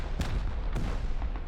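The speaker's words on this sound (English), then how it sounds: "Look at all the explosions coming in here." Explosions in the video game Rust during a 5v5 raid tournament, a dense rumbling barrage with a couple of sharper blasts standing out.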